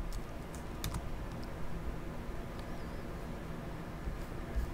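Password typed on a computer keyboard, a faint scattering of light key clicks over a low steady background hum, irregular and soft, with no voices.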